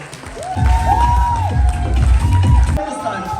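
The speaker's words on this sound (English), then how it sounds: "can we have a round of applause for Priyanka Girkar" A corporate family day crowd cheers and whoops with scattered clapping, loud and close, with raised voices and a tonal musical swell running through the noise.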